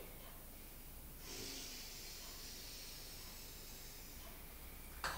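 A slow, deep inhalation during a relaxing stretching exercise, heard as one long, soft, airy breath lasting about three seconds. It is close and alone, with a brief faint knock at the end.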